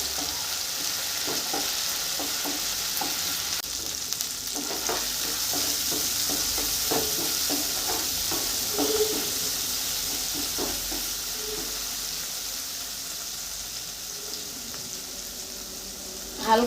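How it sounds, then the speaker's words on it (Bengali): Ginger paste and spices are sautéed in a pan, giving a continuous close sizzle and hiss with frequent soft scraping and stirring knocks throughout. No one speaks. "এটা একটু কষিয়ে নিই।"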